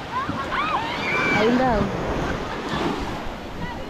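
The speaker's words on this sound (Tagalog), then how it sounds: "Palaki na ng palaki yung alon." Ocean waves surging near a river mouth, a steady broad wash of surf that swells louder midway, with wind noise and someone talking over it throughout.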